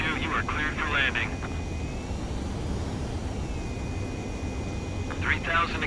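Steady jet engine roar of an aircraft approaching a carrier deck in Ace Combat 7, a continuous loud drone with radio chatter over it and a rising then falling whine in the middle.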